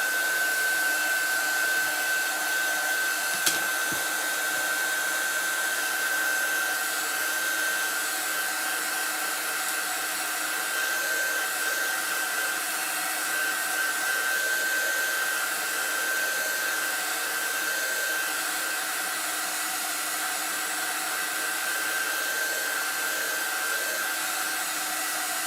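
A hair dryer runs steadily and loud close by for the whole stretch, drying chalk paste on a holiday cardinal craft, a constant whooshing hum with no talking over it.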